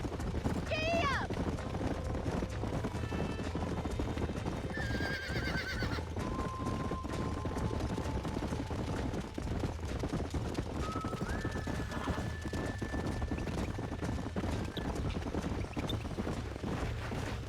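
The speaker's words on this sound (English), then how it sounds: "These are fine horses." Horses on a ranch in the video game Red Dead Redemption whinny loudly and clip-clop with steady hooves under a constant outdoor rumble, while people talk nearby.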